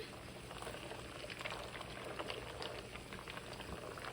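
Gluten-free corn and rice penne stirred into a pot of boiling water: a continuous low bubbling and watery churning, fairly quiet and even throughout, with no voices.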